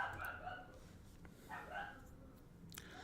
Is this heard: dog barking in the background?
yes